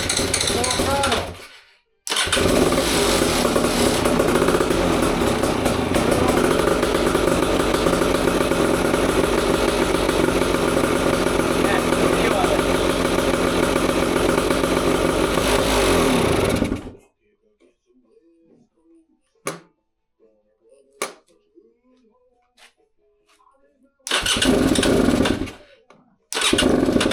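Beta motorcycle engine under rebuild roaring at full throttle, loud and steady for about fifteen seconds before cutting out, followed by near silence with small clicks, then a brief loud burst as it fires again.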